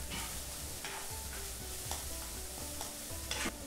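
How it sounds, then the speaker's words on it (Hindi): Chopped onion sautéing in a pan for bhindi masala, a quiet steady sizzle with repeated stirring strokes and a low hum underneath. "भून लेते हैं अच्छे से।"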